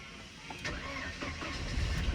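A used car's engine cranks and turns over during an inspection, a short mid-pitched start rising into a steady low rumble at close range, with no talking.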